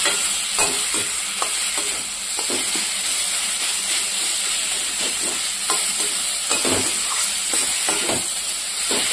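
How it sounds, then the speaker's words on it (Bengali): Fried potatoes being stirred into a sizzling masala in a pan, a steady frying hiss with repeated scraping stirs close by, and no talk. "এই যে আলুটা দিয়ে দিলাম, এবার আলুটার সঙ্গে ভালো করে মিশিয়ে নেব"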